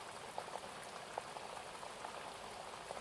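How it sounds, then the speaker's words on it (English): Water in a stream flowing steadily in a meadow, a faint, continuous bubbling and trickling with scattered small drips and no voices. "the scent of that stream and the sound of the flowing water"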